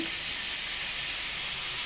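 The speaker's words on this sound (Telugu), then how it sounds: "ఇవి వేసి తాలింపు వేసుకుందాం." Garlic, chana dal, urad dal, mustard seeds, cumin and curry leaves sizzle in hot oil for tempering, a steady, bright hiss that holds evenly throughout with no voices.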